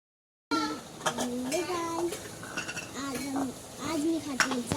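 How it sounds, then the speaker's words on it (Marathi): Dishes being washed by hand at a village home: pots, metal utensils and cutlery clink and knock in irregular bursts close by, while voices, including a child's, talk over the clatter. "मी इथं लगेच भांडी घासायला घेतली."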